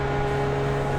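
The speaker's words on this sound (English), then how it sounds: "if you hear like this rumbling noise in the background, that's the steering wheel like vibrating because the track is so bumpy" A sim racing steering wheel vibrates over a bumpy track during an iRacing IndyCar race at Michigan, giving a steady, even low rumbling hum with faint tonal whine that runs unbroken throughout.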